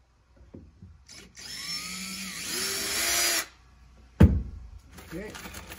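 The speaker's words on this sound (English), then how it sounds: "I like to drill a pilot." Power drill boring a pilot hole for a self-tapping screw inside a truck cab during an interior install, a steady whining run of about two seconds, close and fairly loud, followed by a short thump and handling noises.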